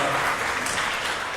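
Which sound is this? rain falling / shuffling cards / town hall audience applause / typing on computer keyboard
town hall audience applause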